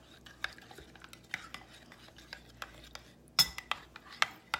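Spoon scraping and clinking against a bowl while coleslaw of apple, cranberry and almond is stirred, a run of close, light taps and scrapes, a couple of sharper clinks near the end.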